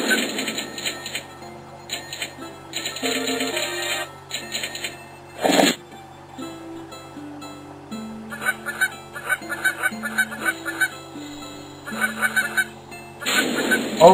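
Geese in the video game Endless Migration honk repeatedly in rhythmic bursts over synthetic game music, with a loud sharp sound effect partway through, and no talk.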